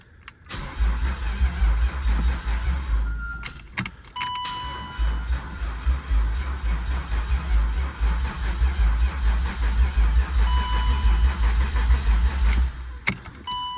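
An old touring car turned over with a dead jump pack and fuel pump fuse likely out, so the engine cranks without catching: a loud, steady low chugging that runs for several seconds, pauses briefly, then resumes and cuts off.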